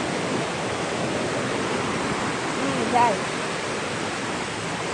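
A constant rushing roar of a waterfall fills the scene, steady and enveloping, with a short murmured word from someone nearby.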